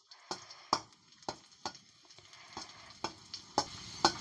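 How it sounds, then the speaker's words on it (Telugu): Boondi drops for laddu frying in hot ghee, giving a steady low sizzle broken by several sharp clinks and stirring taps at an irregular rhythm, close and fairly quiet with no voices. "నెయ్యిలో ఎంపుకునాలి."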